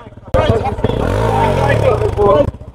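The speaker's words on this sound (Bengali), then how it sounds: "আর এটা হচ্ছে বাইকের সাউন্ড।" A motorcycle engine rumbles close by and its pitch swells and falls as it revs, loud and continuous for a couple of seconds before stopping abruptly.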